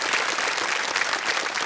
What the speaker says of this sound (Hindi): एक बार फिर जोरदार तालियां।